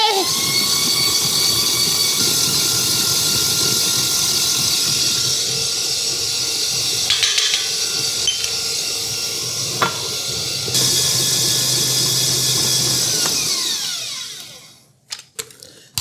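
A mixer whirs steadily while beating a chocolate cream cheese mixture with an egg in a kitchen. The loud hissing drone runs almost unbroken for about fourteen seconds, then cuts off, followed by a few faint clicks.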